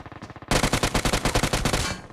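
Gunfire in the video game PUBG Mobile, a fast rapid-fire burst of loud close shots in a steady rhythm after a few quieter shots, no talk.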